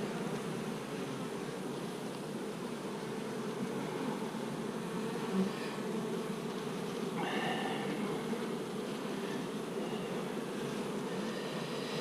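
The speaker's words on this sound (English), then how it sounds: "We got quite a few nurse bees on this one." A dense swarm of honey bees hums steadily and close by at a hive, a continuous droning buzz with a few louder passes near the microphone.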